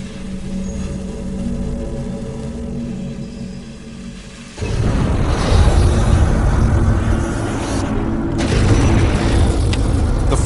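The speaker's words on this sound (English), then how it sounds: "The flamethrower fires burning gasoline over 60 feet and instantly incinerates the target Richard has set up." A flamethrower hurls burning gasoline over 60 feet at a hay bale, a steady mechanical hum suddenly giving way to a loud, roaring whoosh that rumbles on continuously.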